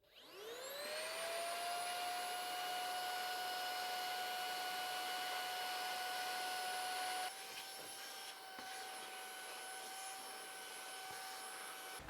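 An Aspiron handheld vacuum cleaner runs steadily for the whole span, a loud close whine with a pitch that rises at start-up and shifts slightly near the end, used for cleaning crevices around a house.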